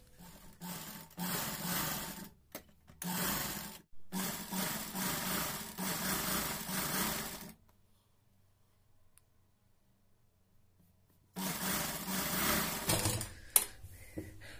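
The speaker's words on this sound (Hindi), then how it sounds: "अब दूसरा पीस भी हमने इसी तरह से स्टिच कर लेना है" A sewing machine stitches fabric pieces of a reversible newborn baby cap, running in loud close bursts with brief stops, then a long quiet pause before it whirs again and ends with a few clicks.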